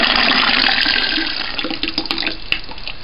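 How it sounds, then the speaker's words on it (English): Corn poured into a bucket for a moonshine corn mash makes a loud, continuous rushing pour that tapers off into a few scattered patters. "We'll now pour our corn."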